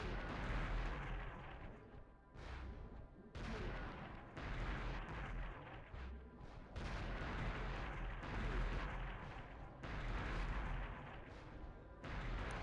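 Repeated booming explosions from concussion beams and grenades in the video game Future Cop: LAPD, heavy bursts in quick succession with brief gaps, loud and alone without talk.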